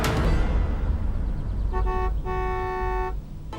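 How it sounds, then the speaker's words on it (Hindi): A car horn blares in sustained honks with a brief break, sounding loud and near over a busy street background. "एक कार की हॉर्न ने अंतरा के साथ साथ रुद्र और मधु का भी ध्यान अपनी ओर खींचा।"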